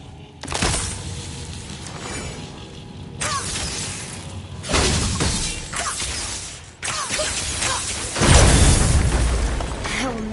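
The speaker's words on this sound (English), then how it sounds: "I will never get tired of shattering things with this." Objects shattering and bursting in the video game God of War, a run of crashing impacts and whooshes landing in bursts across the stretch, loud and close, with talk heard at points between them.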